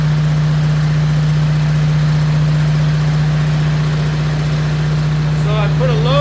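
A generator fitted with a homemade venturi-style exhaust runs under load, a loud, steady engine drone with a strong constant hum, close by, with a brief voice near the end.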